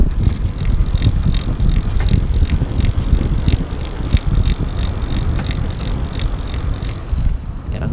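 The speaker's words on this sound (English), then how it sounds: "I'm going to show you guys the motor real quick while we're riding." A Moustache Lundi 26.1 electric bike is ridden outdoors, its quiet motor giving a faint whir under loud, steady wind rumble and road noise, with soft repeated ticking throughout.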